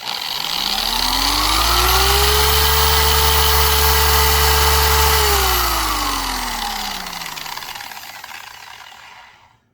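A Maxshine M21 Pro polisher spins up as its trigger is squeezed fully, a loud close whine rising in pitch, holding steady for several seconds, then winding down and fading to silence.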